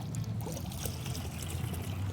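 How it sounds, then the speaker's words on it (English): A sponge is dipped into a small bucket of water during a car-care product demo, giving a close, brief sloshing trickle and pouring splash that continues throughout at moderate loudness. "I'm gonna get it wet in my little bucket of water here,"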